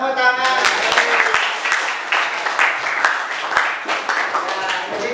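Applause from a classroom group, a steady wash of many hands clapping for about five seconds, with some voices mixed in.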